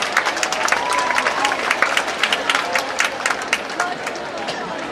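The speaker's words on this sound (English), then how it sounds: "Let us give him a round of applause." An audience at a school event applauds a junior high school principal, a dense round of clapping with crisp individual claps and some crowd murmur underneath, fading slightly toward the end.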